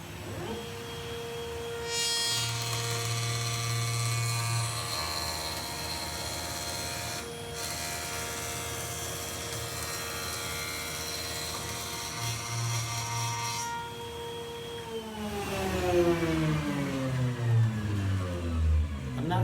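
An electric jointer whirs up and runs steadily as a piece of old wood is passed over the cutter, a loud machine drone with rougher cutting stretches, then spins down at the end.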